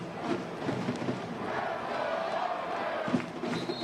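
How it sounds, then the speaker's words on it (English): Soccer stadium crowd at Oakland Roots vs Detroit City chanting "Let's Go Oakland", a broad, moderately distant wash of voices with a few louder bursts and thumps. "Let's Go Oakland ring out among this crowd"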